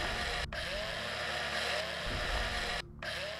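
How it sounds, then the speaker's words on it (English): Handheld drill in the space survival game Breathedge runs as a steady, harsh mechanical whine for several seconds, cutting out twice briefly before resuming at the same level. "Let's get the drill out."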